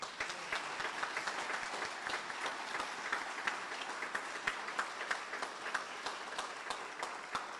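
Audience at a Camp Lejeune award dinner applauding: steady, moderately distant clapping from a sizeable crowd, sustained evenly for several seconds with no voices over it.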